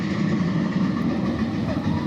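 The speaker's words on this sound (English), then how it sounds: "that's a train" A train rolls past near the Disneyland construction area by Big Thunder, a continuous rumbling clatter of cars on rails heard from moderately close without a break.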